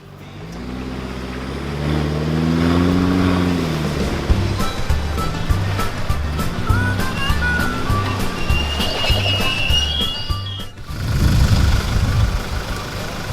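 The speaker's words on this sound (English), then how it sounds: "This is the safer method of recovering a stricken vehicle." A 4x4 revs hard while being recovered on an off-road track, the engine droning and rising in pitch over steady rushing noise, with a clatter of rapid knocks and a heavy burst of rumble near the end.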